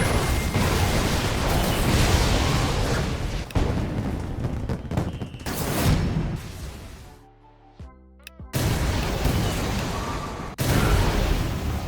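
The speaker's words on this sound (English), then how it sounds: "the massive explosion that does a lot of damage and destroys everything around you" Deep booming blasts and rumbling bursts from a massive destructive explosion ability in a modded Minecraft game, loud and repeated with a brief quieter gap in the middle.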